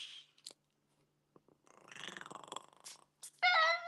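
A cat purrs softly up close, a brief rhythmic rumbling among quiet pauses and small clicks, ending in a short louder high-pitched meow-like call.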